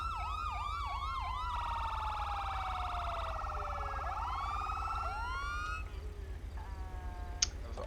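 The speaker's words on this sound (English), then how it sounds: "to a secondary siren by pressing up on the D-pad when your siren is active" A police siren in the video game GTA V LSPDFR wails, then switches between rising-falling tones and a rapid yelp, loud and steady with nothing else heard.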